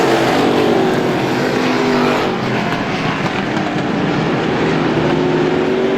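Race cars roar continuously at Star Speedway during a Strictly class feature. The engine noise is a dense, steady wash that swells and fades slightly as the cars pass.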